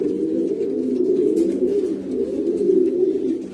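Pigeons cooing close by in a breeding loft, a continuous low, soft burbling with no voices over it.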